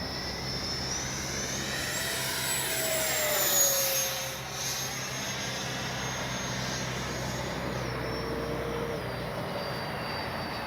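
A Freewing F-4 Phantom II RC jet flying on a warm day, a steady whining electric ducted-fan roar that swells as the model passes closer around midway and then recedes, with shifting whistling tones and no talking.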